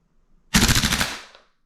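An airsoft MWS gas blowback rifle fed by a stock Tokyo Marui magazine fires one short full-auto burst of about ten rapid, loud, close cracks lasting under a second, then stops.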